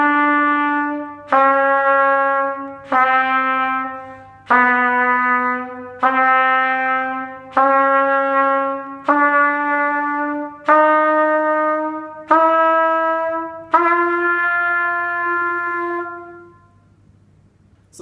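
A brass horn works through a second-register position exercise, stepping down through positions from F: about nine sustained, separate notes in an even rhythm, each one sliding slightly lower, played loud and close with no talking.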